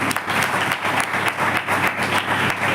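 An audience at a youth church meeting breaks into loud, close applause, with many hands clapping in a dense, steady patter throughout.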